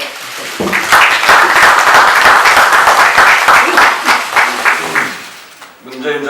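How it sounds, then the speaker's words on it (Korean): Sustained applause from an audience at a Korean ruling-party political gathering, loud and steady for about five seconds before thinning out, with a brief voice at the end. "감사의 박수 먼저 드려드리겠습니다"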